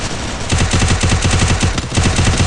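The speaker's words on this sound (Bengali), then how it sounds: "ওমের হেড মারলাম না এখন" Rapid automatic gunfire from the battle royale game Free Fire rattles in a dense, steady burst of shots lasting the whole short stretch, loud and close with no talk over it.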